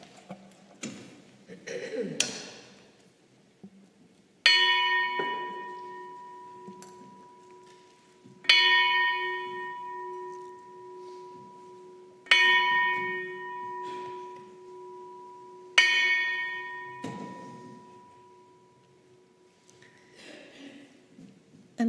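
A single bell is struck for the opening of a spiritual service, sounding four times at roughly even intervals with clear ringing tones that decay slowly. Soft talk is heard at the very start.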